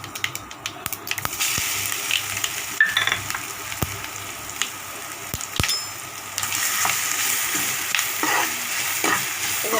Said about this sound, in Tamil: இது நல்லா வதங்கணுங்க